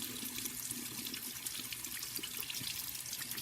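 Warm tap water runs steadily over a makeup brush being rinsed clean at a sink, a continuous close hiss and splash with no talking.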